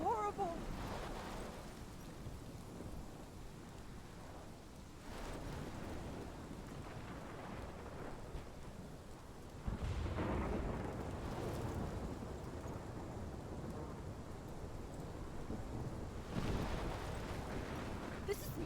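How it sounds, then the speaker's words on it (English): A thunderstorm in the video game Life is Strange: continuous rain hiss with low rumbling thunder swelling at intervals, heard at moderate level over a dull steady bed. "This is my storm."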